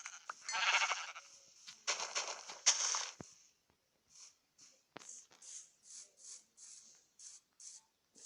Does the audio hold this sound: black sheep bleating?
yes